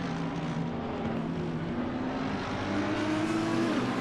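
Porsche race car engine in Assetto Corsa Competizione at Zandvoort, a steady droning engine note with a rising pitch near the end, continuous and fairly loud, no talk.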